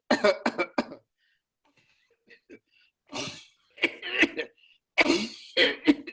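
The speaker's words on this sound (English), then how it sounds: "please demonstrate and show us one normal cough and one asthmatic cough" Several sharp, harsh coughs up close, a demonstration of a normal upper-airway cough: a rapid burst at first, then after a pause a few more forceful coughs in clusters.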